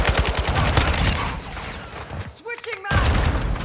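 Gunfire in Call of Duty Modern Warfare 2 multiplayer on the Havoc map. Rapid automatic bursts rattle loud and close, break off for a moment while a soldier shouts, then start up again.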